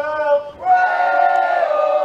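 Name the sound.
New South Wales supporters cheering in the softball crowd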